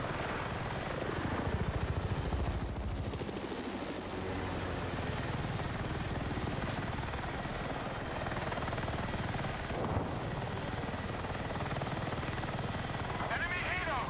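Helicopter in a video game combat match, its rotor and engine roar loud and steady throughout as it passes overhead, with battle noise and a voice callout mixed in.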